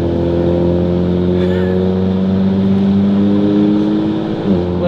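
A 2023 Audi RS5 fitted with 034 Motorsport downpipes and an AWE Touring exhaust, its engine droning loud and steady up close with a sustained rev that drops off sharply at the end.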